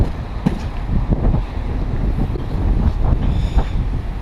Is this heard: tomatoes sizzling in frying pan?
no